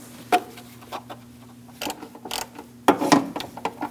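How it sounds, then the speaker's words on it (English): A bolt is threaded in by hand during an ignition coil replacement on a 2006-2011 Chevrolet HHR 2.4L L4, giving close metallic clicks, ratcheting and scraping in irregular short bursts with no talking. "now we're going to put our bolt in over here"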